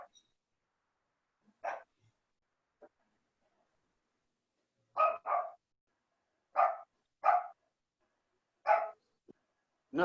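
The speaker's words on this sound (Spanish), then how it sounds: "Justo está ladrando el perro." A dog barks in short, separate bursts, alone against near silence, in a home where a Bible study is under way. Single and paired barks come at uneven gaps over about ten seconds, fairly close and clear.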